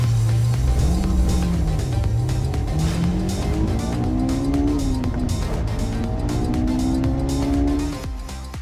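A 2022 Land Rover Defender 90 two-door SUV drives with a loud, steady engine drone whose pitch climbs and falls through the gears, then fades near the end.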